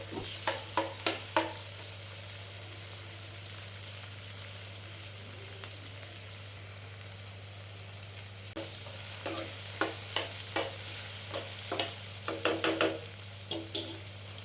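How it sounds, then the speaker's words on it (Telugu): Ginger garlic paste frying quietly in a pan for a tomato curry, a soft sizzle under a steady low hum, broken by bursts of sharp clinks and scrapes from stirring. "హాఫ్ టేబుల్ స్పూను అల్లం వెల్లిపాయ పేస్ట్ వేసుకుందామండి అది పచ్చివాసన పోయే వరకు వేపుకుందాం"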